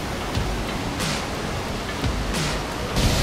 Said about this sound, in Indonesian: Kita pas di depan air terjun.